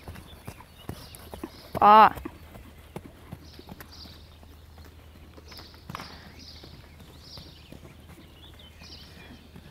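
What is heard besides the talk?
horses walking, hooves clip-clopping in riding lesson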